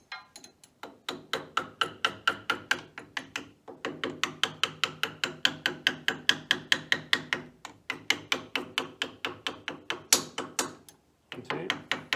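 Dozens of rapid, sharp taps hammer pins into an on/off switch assembly, a close, brisk rhythmic series broken by a few short pauses.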